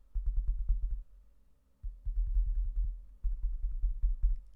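Spiders in Resident Evil Code: Veronica X on GameCube walk in rapid clusters of low, thudding footsteps, skittering in bursts with brief pauses between, a creepy scuttling rumble with no talking.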